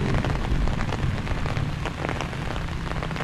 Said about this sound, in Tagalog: Lumakas yung ulan pre.